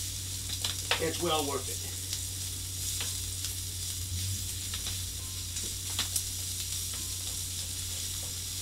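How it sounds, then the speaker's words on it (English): Sausage sizzles in a pan as it is broken into small bits for gravy, giving a steady, moderately quiet frying hiss with occasional spatula scrapes, while someone talks briefly near the start. "sausage just about done cooking"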